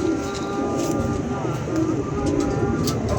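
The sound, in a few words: pigeons cooing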